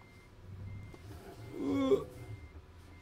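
A reversing truck in the American Truck Simulator video game sounds its backup beeper, a steady repeating tone over a low engine rumble with a brief louder swell near the middle.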